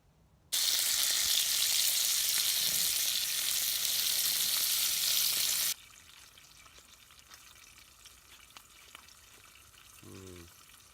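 Rain falling on a camping tarpaulin shelter in a forest at night: a dense, loud, steady hiss that cuts off abruptly midway, leaving a quiet background with faint patter.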